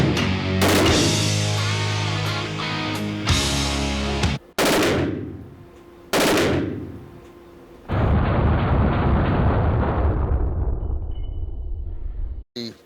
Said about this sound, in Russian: Пистолет-пулемет Sig Sauer MPX-9. Скорострельность 850 выстрелов в минуту.